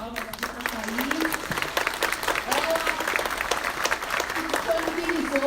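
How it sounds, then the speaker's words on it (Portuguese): Steady applause from an audience at a public council meeting on youth and adult education, dense clapping sustained throughout with voices talking over it. "Queria pedir uma salva de palmas aqui para a Thaís"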